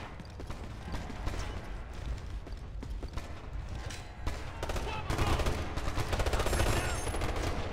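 Gunfire in the Ghost Recon Future Soldier video game rattles as dense, continuous bursts of shots with mechanical clatter, growing louder toward the end, with talk mixed in.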